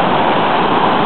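A waterfall in the Smoky Mountains of Tennessee roars as a loud, dense, steady rush of broadband water noise, close and unbroken, with no voices.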